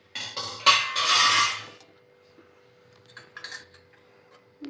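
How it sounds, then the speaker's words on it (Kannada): A cooking pan is set down on a gas stove with a sharp metallic clatter and ringing scrape, followed by a few faint clinks and taps amid quiet room tone, with no talking. "ಅದ್ರ ಮೇಲೆ ಒಂದು ಬಾಂಡೆ ಇಡ್ತೀನಿ"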